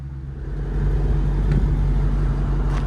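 A 2022 Dodge Challenger Scat Pack with a six-speed manual and a $2,000 aftermarket exhaust produces a deep, steady rumble up close, swelling slightly as it settles into a constant throbbing drone.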